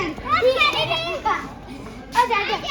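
Children shout, squeal and chatter in a lively jumble at a Punjabi wedding gathering, loud and close with bursts of excited voices over busy background noise.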